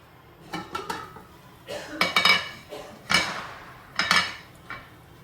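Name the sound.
sautéing cashews in a pan, utensils clinking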